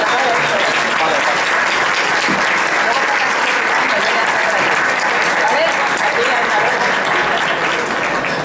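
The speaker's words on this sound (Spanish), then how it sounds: "Un aplauso" Sustained audience applause after a publisher's talk at a Barcelona manga convention, a loud, thick roar of clapping lasting over eight seconds with crowd voices mixed into it.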